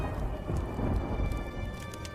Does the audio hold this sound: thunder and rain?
yes